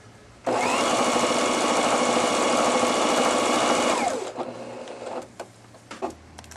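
An Elna 3210/3230 sewing machine runs at high speed in a steady, loud, fast whirring buzz for about four seconds, then stops, leaving a few faint clicks and handling noises.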